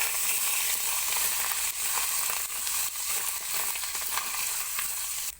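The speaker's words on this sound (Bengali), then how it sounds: "আদা বাটা দিয়ে কিছুক্ষণ আদাটাকে কষে নিতে হবে।" Ginger paste with a pinch of turmeric sautés in a pan for a banana-flower curry, a steady close broadband sizzle with soft scraping stirs running throughout, no voices.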